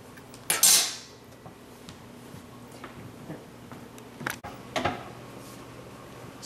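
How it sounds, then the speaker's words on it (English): An eye of round roast is lifted out of a slow cooker with metal utensils, giving a sharp clatter of cutlery against the pot, then quieter scrapes and a couple of later clinks in a calm kitchen. "I'm going to take the roast out."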